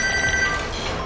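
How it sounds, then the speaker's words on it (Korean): A telephone rings in a busy weather forecasting office, a brief bright electronic trill standing clear of the room noise. "확인 전화가 빗발칩니다."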